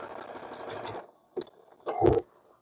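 A sewing machine stitches around the curves of a quilt block in short bursts: a steady whirring run for about a second, a pause, then a quick stitch and a louder final burst, up close with no talking.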